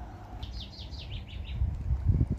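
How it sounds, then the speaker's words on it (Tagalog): Birds sing outdoors along a downhill path near a school, a quick run of bright, chirping notes at middling distance over soft background hiss, while low rustling footsteps grow near the end. "ang ganda ng mga huni ng ibon"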